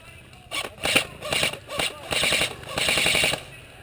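Rapid bursts of gunfire in a combat setting during the siege of Sarajevo, several short volleys and cracks in quick succession at moderate distance, with voices talking around them.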